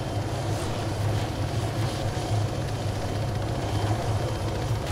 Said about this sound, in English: There's a helicopter too.